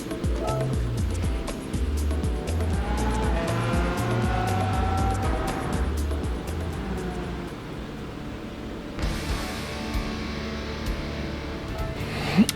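A 1992 Jaguar XJ220 races on the Trial Mountain circuit in Gran Turismo 7, its engine droning loud and continuous through rising and falling revs and gear changes, with a brief tire squeal near the end.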